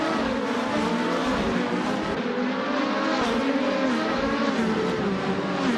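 Video game race cars, 2014 Delara IL-15s, race through tight Valencia street circuit, a continuous dense roar of engines with passing swells and faint tyre squeal, no speech.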